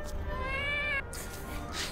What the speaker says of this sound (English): Like they just took one of their fucking cat sound effects.